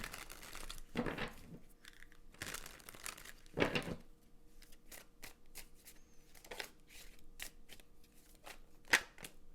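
Tarot cards shuffled by hand, a run of soft papery riffles and slides with a few sharper snaps, close and quiet with no talking.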